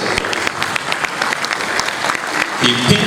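Steady applause from a lecture hall audience at a university inaugural lecture, a continuous wash of many hands clapping at even loudness.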